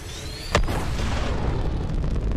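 A Valkyrie skyward launch in the battle royale game Apex Legends: a sudden loud boom and burst of thrust, then a sustained roaring rumble that carries on without talk.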